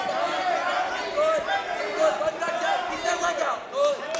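Crowd in a high school wrestling gym shouting and yelling for a stall warning during a match, a steady loud murmur with rising calls, heard under a commentator's voice.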